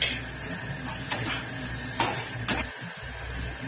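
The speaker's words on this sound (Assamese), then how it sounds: "তাৰপিছত এনেদৰে অকণমান লৰাই দিব" Mutton rezala being stirred in a cooking pot, a soft scraping and shuffling of spoon against metal with faint sizzling underneath and a few brighter clinks, steady and close.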